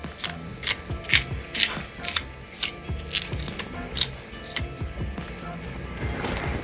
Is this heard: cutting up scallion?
yes